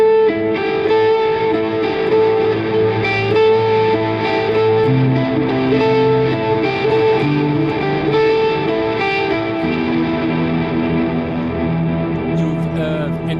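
Guitar through a Kemper Profiler with delay effects, melancholic ostinato notes repeating and layering into a continuous, echoing wash of sustained tones, loud and alone.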